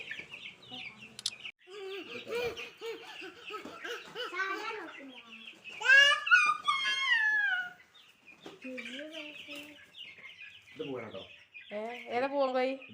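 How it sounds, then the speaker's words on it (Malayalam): Chickens packed in a basket cluck and squawk in irregular bursts, close and fairly loud, with a louder rooster-like cry in the middle and some talking mixed in. "ഇനി അപ്പോൾ കുറേ കോഴിക്കളുണ്ട് കേട്ടോ"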